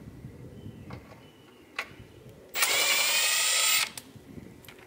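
A power tool with a 10 mm socket spins a bolt on a vintage Honda ATC70 three-wheeler during brake service, one loud, close whirring burst of about a second, with light clicks and handling noise around it.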